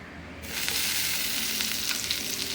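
Butter sizzles steadily in a pan that has been heated dry on the stove, starting quietly and then rising into a loud, even crackle that holds to the end, with no voices.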